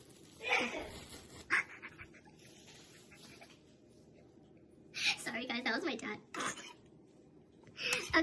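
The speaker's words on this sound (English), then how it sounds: "my dog is making noise" A pet dog in a home kitchen makes several short whimpering and yelping noises in scattered bursts, some faint, alongside a person speaking.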